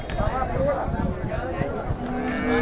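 A cow moos a few times through a busy crowd of voices and general outdoor chatter at a cattle market in Sangola, Maharashtra, with the lowing rising above the hubbub.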